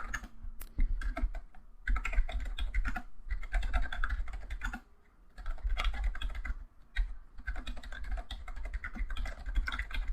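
Rapid typing on a computer keyboard at a Windows PC, a dense run of close clicking keystrokes that continues for about ten seconds with one brief pause near the middle.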